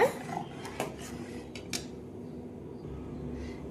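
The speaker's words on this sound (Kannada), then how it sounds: "ಒಂದು ಸ್ಪೂನ್ ತಗೊಂಡಿದ್ದನ್ನ ತಿರ್ವ್ಯಾಡ್ಕೋರಿ" A spoon scraping and knocking in a pot of boiling chana and moong dal batter, with a few distinct clinks early on, then a quieter bubbling background.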